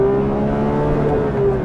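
A Porsche 911 engine revs hard toward 9,000 rpm, a loud, sustained, tonal engine howl with a strong steady pitch over a brief burst.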